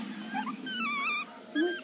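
A dog growls low and whimpers in rising, wavering whines, close and fairly loud, with a short squeal near the end and no talk over it.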